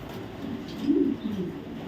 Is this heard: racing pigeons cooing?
yes